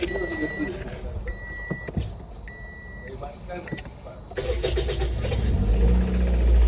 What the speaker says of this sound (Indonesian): Kita dengar suara mesinnya